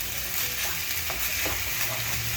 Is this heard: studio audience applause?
no